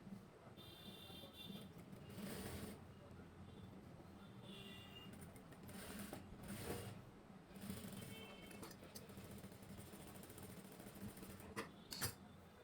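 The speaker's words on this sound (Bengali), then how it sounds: "এরপরে এইদিকে সাইডটা সেলাই দিতে হবে।" A sewing machine stitching the side seam of a petticoat, a steady mechanical whir running close throughout with brief surges and faint clicks, under quiet room noise.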